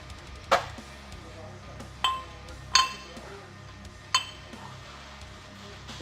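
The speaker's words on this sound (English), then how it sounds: "Now you want to put the hub back into the rotor." A metal wheel hub refitted into a brake rotor during basic automotive repair, heard as four sharp metallic clinks spaced over several seconds, close and fairly loud against a quiet background.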